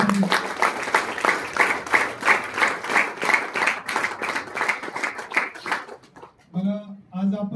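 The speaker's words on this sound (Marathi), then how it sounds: "तुमच्यासाठी पण एकदा जोरदार टाळ्या झाल्या" Audience at a Mi Lifestyle network-marketing team gathering clapping in a fast, regular rhythm of loud, sharp claps for several seconds, fading near the end as a person's voice comes in.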